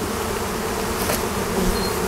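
A dense, continuous drone of many bees fills the air around a hive holding two late wild swarms in calm, warm weather, steady and close throughout.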